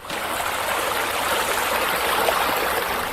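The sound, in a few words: waterfall at a swimming pool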